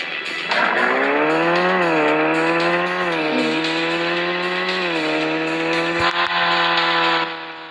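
A loud, sustained Mercedes car engine in a video game, a buzzy, synthetic drone that rises and dips in pitch as it revs and shifts, running steadily before cutting off near the end.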